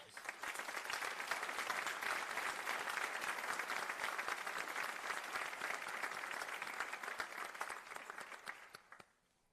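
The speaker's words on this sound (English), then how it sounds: "Please join me in giving these individuals a well-deserved round of applause." At a Greensboro city council special meeting, attendees give a round of applause, continuous clapping from a modest crowd that holds steady and then tapers off quickly at the end.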